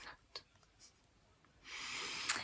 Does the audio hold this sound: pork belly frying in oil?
no